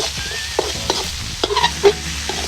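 Fresh fish frying with spices in a pan, a loud steady sizzle broken by several sharp spatula scrapes and clinks of stirring.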